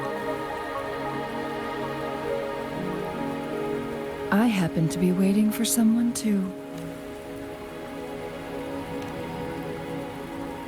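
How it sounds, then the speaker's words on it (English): Steady rain falls throughout a scene in the video game Wuthering Waves, a constant even hiss with a brief burst of louder sound and a voice speaking partway through. "Are you trapped here by the rain?"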